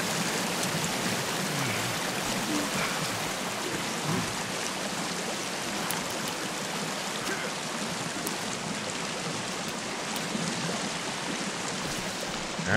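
A waterfall in the survival game Sons of the Forest pours in a steady, dense broadband rush that stays even and fairly close throughout, with no voices.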